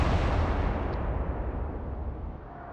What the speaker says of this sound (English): And that's yet another explosion.